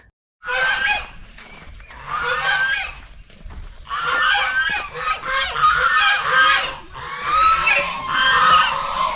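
Several geese honk loudly and repeatedly near a resort in Purulia, West Bengal, harsh overlapping calls in bursts after a brief silence, close by.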